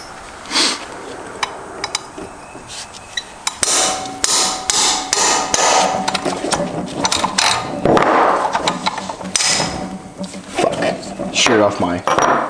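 Steel punch struck repeatedly with a hammer during teardown of a damaged Subaru STI transmission in a workshop, loud irregular metallic blows in quick bursts with clinking of parts between them.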